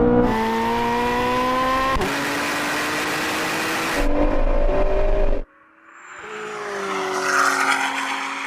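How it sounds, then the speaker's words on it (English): A Corvette Z06 and a Ford GT accelerate hard in a rolling drag race from 50 mph over a half mile, loud engine notes rising steadily through gear changes, with a sharp shift break before the pitch climbs again. "we're going for a rolling race from 50 miles an hour over the half mile"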